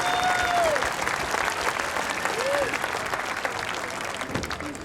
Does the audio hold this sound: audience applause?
yes